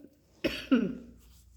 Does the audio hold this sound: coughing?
yes